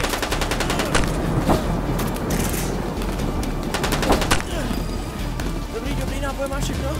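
Rapid bursts of gunfire crackle through a battle scene in a Czech Minecraft zombie film, loud and close, with shouting voices and background noise mixed in.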